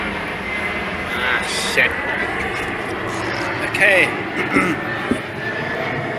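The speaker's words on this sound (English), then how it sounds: "an airplane, it's so loud." An airplane passes overhead, and its engine roar forms a loud, continuous drone throughout. A person speaks briefly during it, and faint work noises can be heard near a boat being refitted.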